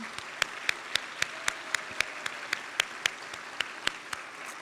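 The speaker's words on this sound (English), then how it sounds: "So please join me in a round of applause for all of our supporters and yourself for being here tonight." At a peace makers banquet, the audience applauds supporters with a soft, steady patter, while one nearby pair of hands claps out sharp, regular beats above it.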